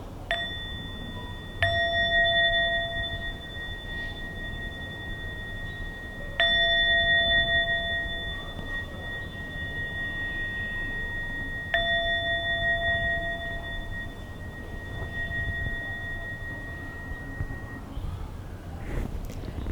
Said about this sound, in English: we're going to listen to 3 sounds of the bell